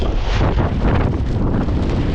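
Strong, steady wind roars and buffets the microphone during a storm in a Turkish village, where it has torn a tent and keeps it from being pitched; the gusting noise is loud, continuous and close, with no voices.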